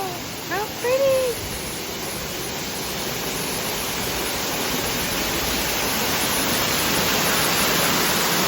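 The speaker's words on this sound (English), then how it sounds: "let's go walk under a waterfall" Steady broadband rushing of a waterfall at the Toverland theme park, loud and continuous throughout, with a brief voice near the start.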